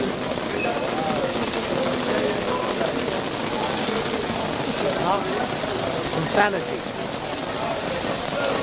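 Steady rain patters loudly on surfaces, a constant close hiss throughout, while people talk over it.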